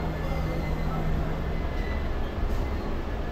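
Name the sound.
train at Bhubaneswar railway station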